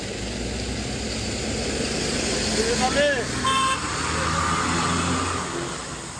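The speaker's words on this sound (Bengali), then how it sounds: "এদিকে পানি দেখেন গাড়ি আসতে খুব কষ্ট হচ্ছে" Vehicles churn through water with a steady wash of engine and splashing noise, a brief horn toot midway, and people talking over it.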